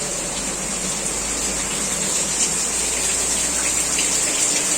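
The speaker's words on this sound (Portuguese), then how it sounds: "Bastante chuva." Heavy rain pouring steadily outside a house, a loud continuous broadband hiss and rush with no breaks, close and uniform.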